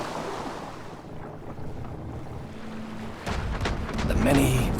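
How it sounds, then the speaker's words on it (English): Sea waves wash and surge around a boat in a video game set on The Caribou Trail, a steady windy roar that swells louder in the last seconds with added rushing and a faint low tone, no talking. "The many-voiced sea."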